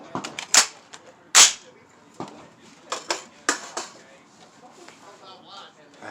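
An airsoft recce rifle fitted with a hot white Springco spring fires a few sharp, separate shots at irregular intervals, each a crisp snap with a brief metallic ring, shot during a zeroing session at the range.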